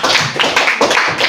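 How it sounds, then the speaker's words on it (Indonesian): Applause in a classroom after a group's presentation, a short burst of clustered handclaps from a small group of students, fairly close and loud with uneven rhythm. "berikan tepuk tangan untuk hasil presentasi kelompok 2"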